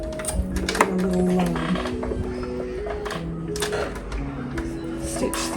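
A sewing machine stitches a summer sundress in short close runs, with whirring motor tones and mechanical clicking that stop and start, alongside some faint handling noise.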